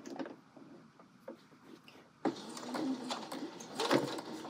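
A sewing machine stitches fabric in short, soft runs of rapid ticking, with quiet gaps between them, then a louder, busier burst toward the end.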